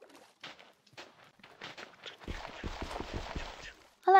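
Crunchy footsteps on dirt blocks in the Minecraft video game, a quick rhythmic run of soft thuds in the middle, fairly close, preceded by a few scattered quieter steps and ending with a brief tonal blip.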